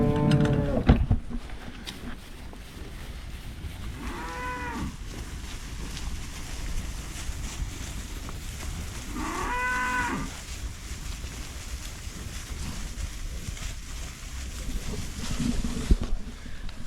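Cattle and calves in a field, two drawn-out moos at a moderate distance several seconds apart, over steady wind noise on the microphone.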